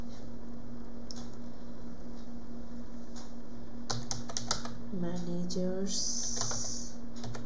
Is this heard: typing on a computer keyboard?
yes